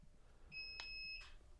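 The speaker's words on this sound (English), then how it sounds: "oh, you hear the beep. Inverter off." A power inverter gives a single short electronic beep of about two-thirds of a second as it is switched off with a long button press, faint and alone against quiet room noise.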